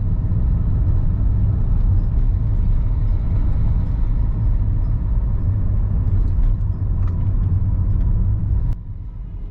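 A car drives along country roads near the village of Kirk Langley, its engine and tyre rumble steady and close throughout, dropping slightly in level near the end.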